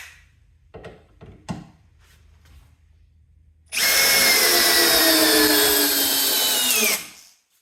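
A Metabo HPT brushless drill spins up on its lowest speed setting, a steady loud whir lasting about three seconds and then stopping, after a few soft handling knocks.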